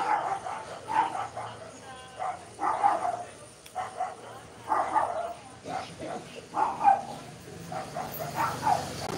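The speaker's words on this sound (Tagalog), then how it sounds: "daming mga aso." Several dogs bark in repeated short bursts at a moderate distance, yips and woofs recurring every second or two amid a busy outdoor background with some talking.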